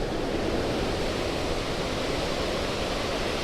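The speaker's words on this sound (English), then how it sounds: "Why is there a waterfall?" A waterfall at Grand Portage State Park pours down a massive erosion-resistant rock dike, heard as a constant, dense, loud roar with no breaks.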